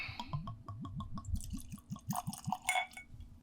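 Whiskey glugs out of a bottle in a quick rhythmic series of gurgles, close up, followed by faint clinks of glass.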